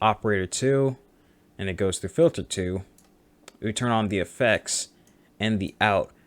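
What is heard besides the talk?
None of the usual background noises is heard.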